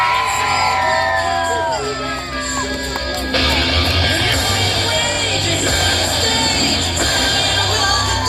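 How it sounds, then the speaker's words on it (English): Large crowd at a monster truck show screaming, yelling and whooping loudly and continuously, with a surge of louder cheering partway through and some shouted voices mixed in. "I wanna hear you scream"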